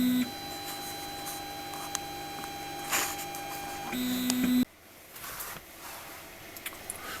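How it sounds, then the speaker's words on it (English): An ET4 3D printer running its auto bed leveling routine, giving steady motor whine and hum with a few brief beeps, then stopping partway through and leaving a quieter room. "the auto bed leveling routine during the printing will compensate for the small errors"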